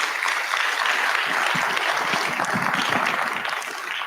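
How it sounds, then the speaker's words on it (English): Steady, dense applause from a conference audience at a ride-industry convention, filling the whole stretch at an even level with no talk over it and easing slightly toward the end. "Let's give him a round of applause"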